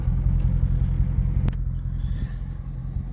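Dodge Scat Pack heard from inside with the window rolled down on a rainy night, a deep, steady engine rumble pulling forward, with a brief sharp tick midway and a softer, more muffled tail.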